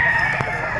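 A rooster at a chicken market lets out a brief, fairly faint crow with no other sound around it.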